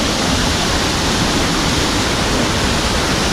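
Payaran Falls in Barangay Mascap, Montalban, Rizal pours in a loud, continuous broadband roar, close and steady throughout with no breaks and no voices.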